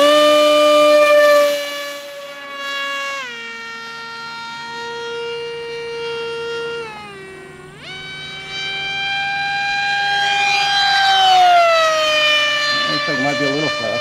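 A BadAss 2826-1360KV brushless motor spins an 8.75 by 7.5 pitch pylon racer prop, a loud whining tone that dips in pitch, then climbs steadily higher as the motor winds up. Brief voices are faintly heard.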